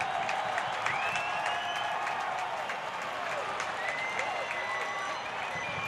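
A stadium crowd at a 2018 soccer match between Sacramento Republic FC and Seattle Sounders FC 2 at Papa Murphy's Park roars and claps steadily, with whistles and shouts scattered through the cheering.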